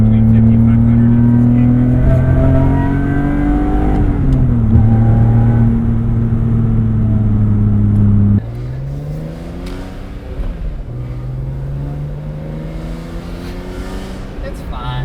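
A BMW E46 M3 fitted with a carbon fiber intake revs loudly and close by, its engine note holding high and then dropping to a lower, rougher drone as the revs fall away.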